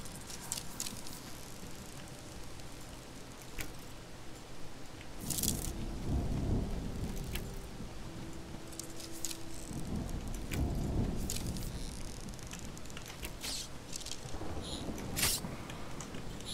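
Thunderstorm in the survival video game Smalland: steady rain hiss throughout with low rumbling thunder swelling twice mid-clip, moderately loud ambience with no talking.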